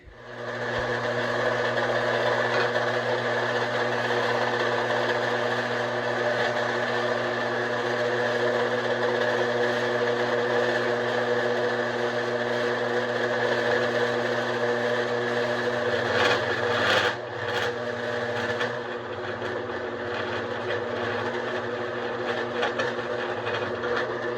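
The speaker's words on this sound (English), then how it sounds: "now I need to set up the bandsaw and cut these 2 bars out" A bandsaw runs set up to cut copper bars, giving a steady mechanical whir and hum that lasts almost the whole time. Near the end there is a short rattling disturbance, and the tone dips slightly after it.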